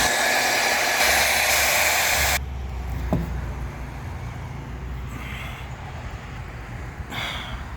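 Hair dryer blasting hot air on a badge on the front grill of a 2015 Subaru WRX, a loud close roar for about two seconds that cuts off, leaving quieter room noise with faint handling sounds.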